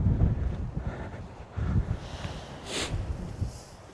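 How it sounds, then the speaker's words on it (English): Gusty wind buffets the microphone outdoors on a hike among snowy rocks, with low rumbling bursts that rise and fall. "That wind is picking up."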